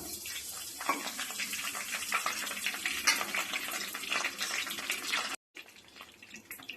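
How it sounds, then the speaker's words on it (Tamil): Fennel seeds and dried red chillies fry in hot oil for a Tamil chicken oil curry, giving a steady, fairly loud crackling sizzle that breaks off for a moment near the end and then returns. "ஒரு ஸ்பூன் சோம்பு நல்லா பொறிஞ்சிருச்சு காஞ்ச மிளகா ஒரு பத்து கிள்ளி வச்சுருக்குறோம் காஞ்ச மிளகா சேர்த்துக்கலாம்"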